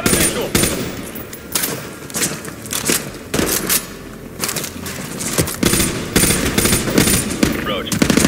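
Suppressing gunfire in Call of Duty: Modern Warfare 2 rattles out in loud, close automatic bursts and single shots, densely overlapping in an irregular stream during a prison raid.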